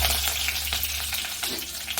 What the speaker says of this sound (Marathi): जिरं घातले मोहरी घातले आणि लसूण घातले चांगली फोडणी बसायला पाहिजे